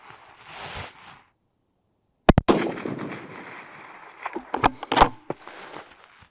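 A CVA Cascade rifle is fired outdoors, one sharp, loud close report followed by a long rumbling echo, with further clacks and rattles of handling the rifle afterward.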